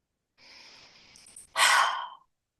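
A person breathing while giving themselves a gentle head, jaw and neck massage, with a long soft exhale followed by a louder, breathy sigh, close and alone.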